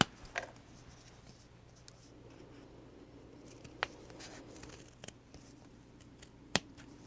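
Scissors snipping folded paper for a fan fold paper cut design, sparse sharp cuts scattered over quiet room tone, a few louder close snips standing out between softer rustles, with no talking.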